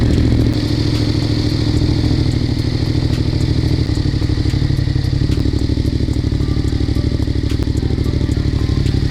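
Yamaha MT-07 motorcycle engine idling with a Ransoto exhaust, a loud, steady, close-up rumbling putter with a rapid regular pulse and faint ticks on top, running throughout.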